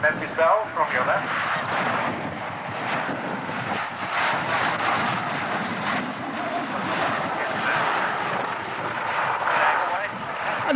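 B-17 bomber Memphis Belle passes with a sustained engine roar, loud and rumbling throughout, mixed with buffeting wind noise on the microphone.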